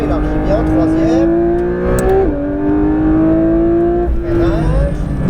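A Porsche 992 GT3 RS accelerates on a race track at La Ferté-Gaucher, its engine note rising loudly from inside the car before a brief dip and a second climb, with an instructor talking over it.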